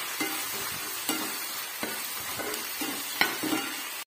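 A spice mixture with turmeric is sautéed in a pan for matar paneer, giving a steady soft sizzle broken by several sharp spatula scrapes and taps against the pan.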